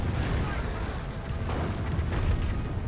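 Calliope rocket barrage in Company of Heroes, a steady dense rumble of overlapping rocket blasts and booms rolling continuously without clear gaps or voices.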